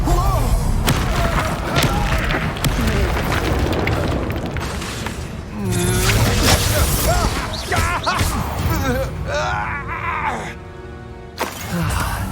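Confringo spell explosions in the Hogwarts Legacy video game, heavy booms and crashing blasts in dense combat with spell effects, and occasional voices over the din.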